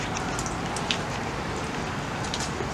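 Steady rain falls, a constant hiss of drops with occasional sharper patters on a nearby surface.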